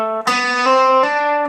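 An electric guitar plays even legato hammer-ons, a few distorted notes sounding smoothly in a steady rhythm, close and sustained with no picking gaps.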